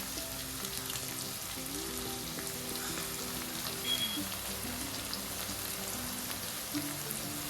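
Bitter gourd deep frying in oil with chili powder stirred in: a continuous close crackling sizzle with fine popping, steady throughout, with no voices.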